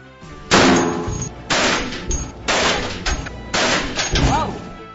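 Barrett M107 .50-caliber rifle firing at a range, four loud, booming shots spaced roughly a second apart, each with a sharp onset and a lingering decay, with faint voices in the background.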